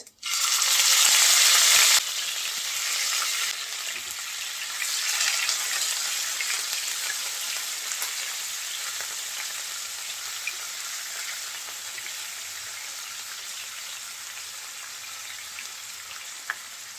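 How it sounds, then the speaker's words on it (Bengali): Pangas fish fries in oil with whole cumin: a loud burst of crackling sizzle as the pieces go in, then settling into a steady, dense frying hiss with scattered pops, close and without speech. "জিরা ফোড়নের সাথে এই মাছটাকে একটু ভেজে নেব"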